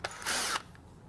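Power drill fitted with a paddle bit boring into wood for an anvil swage block stand, heard as a short whirring burst lasting about a third of a second after a brief click, close and fairly quiet.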